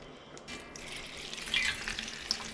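Water poured from a kettle into a metal pressure canner nearby, a soft rushing splash that grows a little fuller as it goes.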